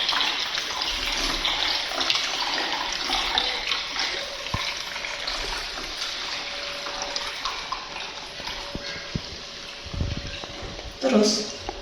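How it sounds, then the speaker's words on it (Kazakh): Children in a preschool group pour water into glasses, making a continuous close splashing trickle that runs under an adult's voice, with some clinking toward the end. "Ал қанекей су құйыңдаршы"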